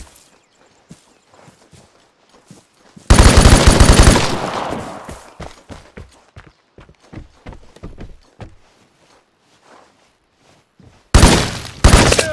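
Luger pistol gunfire in the video game Vigor: a sharp burst of shots followed by a long trail of echo, footsteps between, then another burst of shots near the end, loud and close, with no talking.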